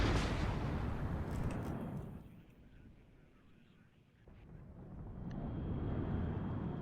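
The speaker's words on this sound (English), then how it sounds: "Clusters coming in again. Very, very effective, those clusters." Cluster munitions strike in the strategy game WARNO, a long roaring rumble of overlapping blasts that fades briefly before a second heavy wave of impacts swells back in.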